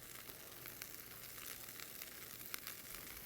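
Meat, peppers and onions sizzle in a hot pan with a steady, soft crackling hiss and occasional pops, close and fairly quiet, with no talking.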